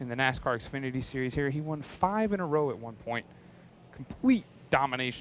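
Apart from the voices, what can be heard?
No everyday noises stand out.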